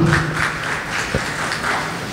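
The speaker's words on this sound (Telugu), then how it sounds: "నా తరపున మీరందరూ కూడా ఆయనకు అభినందనలుగా చప్పట్లు కొట్టమని మనవి చేస్తున్నా." An audience claps together at a book release ceremony held at a temple, a brief burst of dense, steady applause heard up close.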